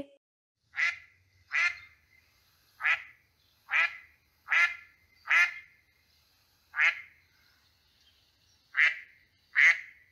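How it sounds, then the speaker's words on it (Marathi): A duck quacks repeatedly, about ten loud, nasal quacks in an irregular rhythm, close and clear against a quiet background. "हे बदक आहे. बदक क्वाक क्वाक करते."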